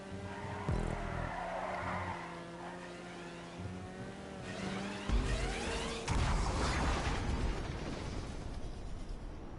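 A car in GTA V revs its engine loudly and steadily, with a sharp shift partway through and a heavier, rougher roar near the end, and no talking over it.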